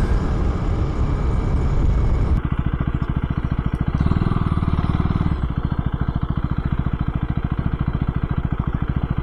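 A 2024 Husqvarna Svartpilen 401 with a 399cc single-cylinder engine runs close by, its pulsing mechanical thrum shifting in tone partway through and continuing steadily, with no one talking over it.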